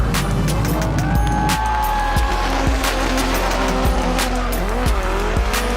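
Nissan 240SX pro drift car at a DMCC East Series event, engine screaming and tires squealing loudly in long skids, with sharp bursts and shifts of pitch as the car slides close by.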